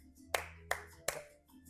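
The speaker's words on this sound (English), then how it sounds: "Let's try now with our hands. Clap." Three crisp hand claps in an evenly spaced rhythm from a salsa dance class for beginners, close and clear with music faintly beneath.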